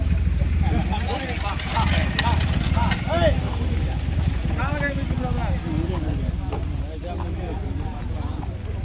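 Bulls pulling carts thunder past in a bullock cart race at Ariyanathapuram, a rapid rumbling clatter of hooves and wheels under constant loud crowd shouting and nearby voices.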